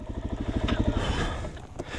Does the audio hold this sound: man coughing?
no